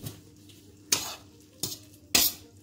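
Linguini with parmesan and garlic stirred in a pan with the burner off, three scraping, clattering strokes of a utensil against the pan over a faint background, no voices.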